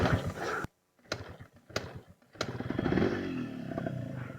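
Dirt bike motorcycles on a dirt trail in Masamuyao, Bangui, one engine revving up and roaring close by after a few sharp bursts and gaps, with a voice briefly heard at the start.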